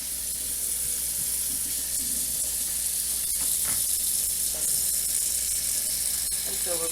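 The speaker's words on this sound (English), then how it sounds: "Then we're going to add some cold water to it to stop the cooking process." Cold tap water running steadily into a pot of cooked chicken and vegetables, a continuous hissing splash with a few small clinks.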